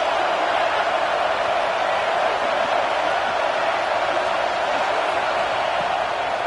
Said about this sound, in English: and this crowd is at fever pitch.